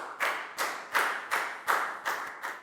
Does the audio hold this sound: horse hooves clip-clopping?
no